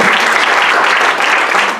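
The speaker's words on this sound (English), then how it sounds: "Can we give the tellers all a big round of applause?" Library storytelling event audience claps in a dense, steady burst of applause, loud and close, filling the whole moment without any voices.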